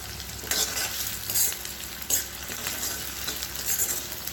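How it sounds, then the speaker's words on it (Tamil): Onions sautéing with a pinch of salt in an iron kadai for egg masala curry, a continuous close sizzle broken by several scraping stirs of the spatula. "வெங்காயம் நல்லா வதங்கட்டும்."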